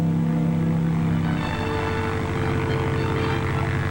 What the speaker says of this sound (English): A small aircraft could use landing areas impossible for use by larger aircraft.